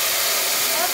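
Water poured onto browned vermicelli in a hot pan sends up a sudden loud, broad hiss of steam, brief and close.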